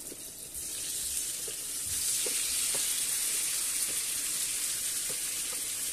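Leftover boiled potatoes frying in a pan, a loud, dense, steady hiss of hot oil that swells after the first second and holds, with a few faint soft knocks underneath and no speech.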